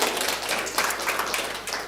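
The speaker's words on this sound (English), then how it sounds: "Let's give him a clap" Short round of clapping from a small group, such as a class thanking a guest named Dan, dense and steady for under two seconds with no talk over it.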